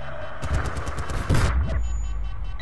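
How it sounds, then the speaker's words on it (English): Rapid automatic gunfire and a heavier blast during a Battlefield: Bad Company 2 multiplayer match, loud and close, with shots overlapping in dense bursts and game effects underneath. "keep shooting me, keep shooting at me"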